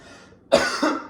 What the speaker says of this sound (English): I got a dry cough from that.